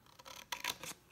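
Paper being cut with scissors for a Post-It note holder, a few quick, faint snips close up over a soft hush.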